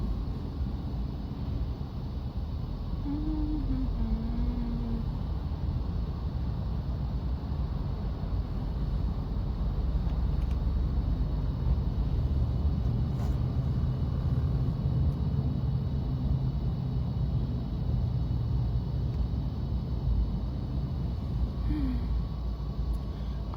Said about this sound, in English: You guys, I am in traffic galore.